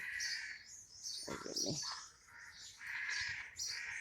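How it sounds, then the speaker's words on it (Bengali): Morning birds chirp and crows caw outdoors, several high calls overlapping steadily, while a brief spoken phrase cuts through in the middle. "সকালবেলা পাখির ডাক"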